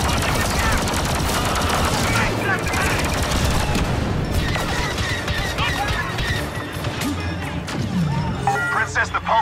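Sustained blaster and gunfire from a Star Wars Battlefront II campaign battle, dense rapid bursts and impacts filling the whole span, with voices talking under the combat.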